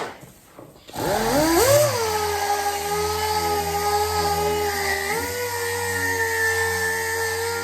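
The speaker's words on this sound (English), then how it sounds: "So I'll just put the sander on it to expose the scratches" An electric sander works the primer on a VS Commodore's car body, starting abruptly after a moment of quiet and then holding a steady, close motor whine with a brief dip in pitch partway through.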